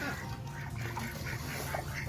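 Ducks at a pond on Lake Elsinore give scattered quacks over a steady low hum of outdoor background, moderately close, without speech.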